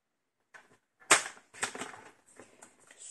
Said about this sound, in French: avec le coupe-papier, vous le découpez